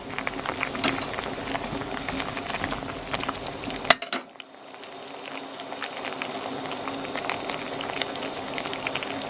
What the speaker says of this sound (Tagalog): ngayon, kumukulo na po itong ating soup